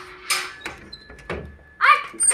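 A door being banged repeatedly at a house gate during a Diwali gathering, with several loud thumps spaced across a couple of seconds amid a voice and household commotion.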